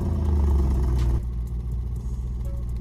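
A Range Rover SUV engine starts in the Roblox Driving Empire game with a loud, dense rumble for about a second, then drops to a steadier, quieter idle hum.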